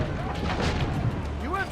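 Cannon fire in the video game Assassin's Creed Brotherhood booms amid dense battle noise, with continuous rumbling blasts and shouting voices mixed in.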